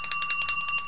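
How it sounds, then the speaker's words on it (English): An old brass bell, decorated with a stag or moose, rings quickly and repeatedly in bright, close strikes that shimmer briefly. "A bell."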